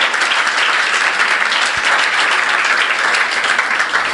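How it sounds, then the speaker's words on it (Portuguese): A congregation at a church youth network meeting breaks into loud, continuous applause, a dense, steady roar of clapping from many hands filling the room. "Quantos podem aplaudir a Jesus por isso?"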